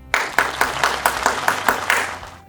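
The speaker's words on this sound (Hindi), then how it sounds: "आपकी तालियों में तशरीफ लाते हैं खुदावंद के ममसू बिशप जोनाथन रहमत" Audience applause rises suddenly and carries steadily for about two seconds as a congregation welcomes a bishop to the stage at a church program, a dense wash of many hands clapping nearby, with no talk over it.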